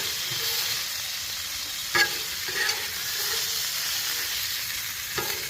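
Johnsonville hot Italian sausages sizzle on a Blackstone griddle in a steady, close frying hiss, broken by a couple of brief clicks as they are turned.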